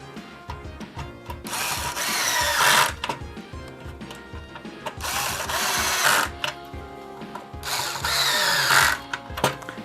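Screws are driven back into a Super Famicom Jr console case during reassembly. Three separate short whirring bursts, each lasting a second or two, are separated by quieter handling noise.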